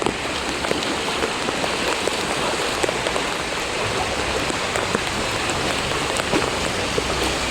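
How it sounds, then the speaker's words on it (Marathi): Heavy Mumbai monsoon rain pours down steadily, with a dense patter of drops over the constant rush of floodwater flowing through flooded lanes. "किती जोरात पाणी वाहत आहे बघ"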